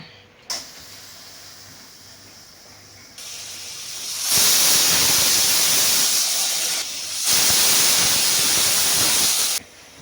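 Pressure cooker on the stove cooking parippu (lentil) curry, hissing loudly as steam vents in two long bursts of rushing hiss separated by a brief quieter pause, with no talk.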